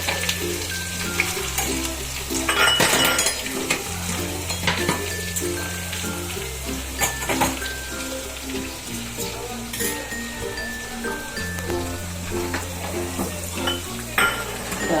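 Curry leaves and green chillies hitting hot tempering oil for dhokla, giving a steady close sizzle and crackle throughout, with faint clinks of utensils and a soft music bed underneath.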